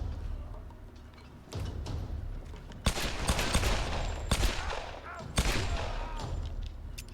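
Bursts of video-game gunfire from Tomb Raider (2013), with dense crackling volleys and sharp loud shots from about three seconds in, over a noisy game soundscape.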